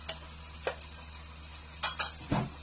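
Tomatoes softening in a pan with ginger garlic paste for a curry, with a few soft stirring scrapes and brief sizzling bursts over a steady low hum, fairly quiet and without talk.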